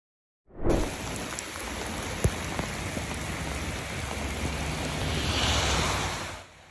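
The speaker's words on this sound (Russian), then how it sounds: "из-за аномальных ливней, накрывших регион" Heavy, abnormal downpour in a storm over the Mecca region of Saudi Arabia, a steady loud hiss of rain hitting surfaces that starts abruptly and swells slightly toward the end, with no voices.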